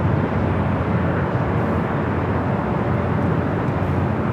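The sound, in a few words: airliner with Goofy livery taxiing at LAX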